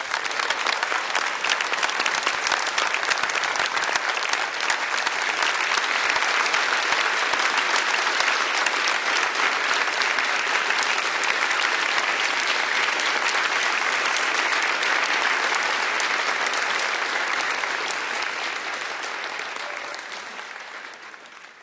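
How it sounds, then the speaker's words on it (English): Sustained, dense audience applause after a talk by Rupert Sheldrake, loud and steady clapping from many hands that holds for about fifteen seconds before gradually tapering off at the end. "One more round of applause."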